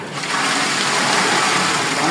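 Water gushes steadily into a cooking pot of chickpeas soaked for four hours, a continuous close pour with splashing for about two seconds.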